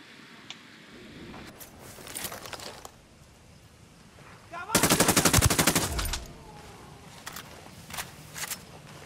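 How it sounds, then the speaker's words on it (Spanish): Burst of rapid automatic gunfire in the tactical shooter game Ghost Recon Wildlands, a loud dense volley lasting about a second amid quieter scattered shots and footstep-like rustles, with no talk. "Disparando al enemigo"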